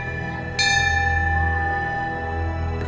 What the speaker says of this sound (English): the ringing of a bell